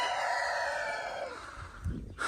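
Chickens clucking and a rooster crowing by a coop, heard at a moderate distance under a steady wash of outdoor background noise, with a brief closer rustle near the end.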